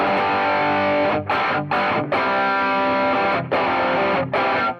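Electric guitar chords played through a Tone Sovereign overdrive pedal into a Marshall amp ring out heavily overdriven and sustained, with brief choppy breaks between strums, loud and close with no talking.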